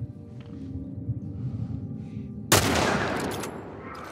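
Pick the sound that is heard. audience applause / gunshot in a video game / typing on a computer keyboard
gunshot in a video game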